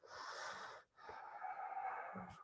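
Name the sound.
sniffing a fabric face mask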